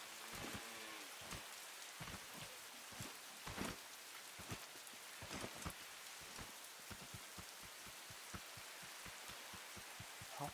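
Steady rain patters across surfaces in the Scrap Mechanic game, a constant hiss of drops punctuated by many quick, irregular taps and splashes close by, with no voices.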